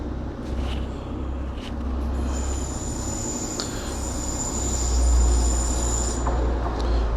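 A Trans-Pennine Express train pulls out of York station with a steady low rumble of wheels and carriages, a high-pitched wheel squeal running through the middle, and the rumble swelling a little toward the end, with no voices.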